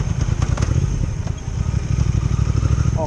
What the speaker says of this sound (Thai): ท่อเดิมๆนี่ก็กระหึ่มแล้วนะ